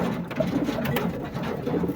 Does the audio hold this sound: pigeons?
yes